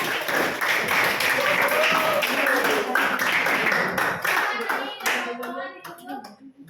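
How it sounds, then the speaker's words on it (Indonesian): A classroom group is applauded with brisk hand clapping that runs loud and dense for several seconds and then thins out into scattered claps, with children's voices chattering underneath. "tepuk tangan untuk kelompok"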